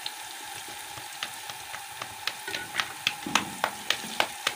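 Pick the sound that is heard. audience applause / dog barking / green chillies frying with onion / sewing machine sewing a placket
green chillies frying with onion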